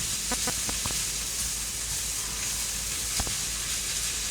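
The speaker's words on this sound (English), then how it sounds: "we are basically stir-frying cabbage and onions" Cabbage and onions sizzle steadily in a hot pan, a constant frying hiss with a few clinks and scrapes of stirring.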